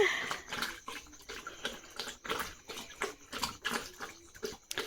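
Water splashes in irregular bursts, sloshing and slapping close by with short quiet gaps between each splash.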